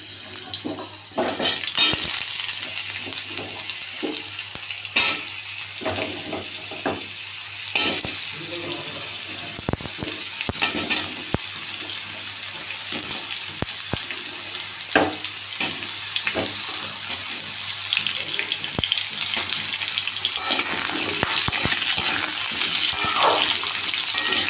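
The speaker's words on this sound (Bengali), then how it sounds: "তো এবারে আমি আলুগুলো ছেড়ে দেব গরম তেলে।" Potatoes frying in hot oil over low to medium heat make a continuous close hiss with scattered crackles, growing slightly louder toward the end.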